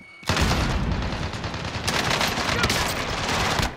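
Dense, rapid automatic gunfire and explosions from a Call of Duty: Modern Warfare multiplayer match burst in suddenly and continue loudly throughout, with a brief sharp pause mid-way.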